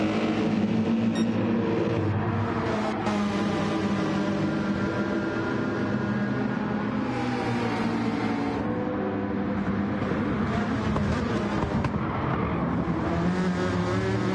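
Race cars at Laguna Seca in Gran Turismo 7, with continuous loud, close engine roar and whine that rises and falls through gear changes as they run flat out on soft tyres.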